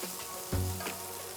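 Ginger, green chili and chopped tomato sizzle steadily in a hot pan, with a brief scrape of stirring in the middle and continuous frying crackle throughout.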